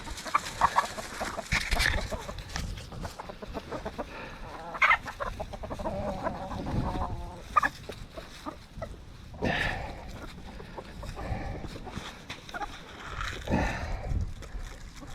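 Ameraucana chickens cluck and murmur around an off-grid tiny-house homestead. Soft, scattered clucks and low calls come from several birds close by, with a few louder squawks and no talking.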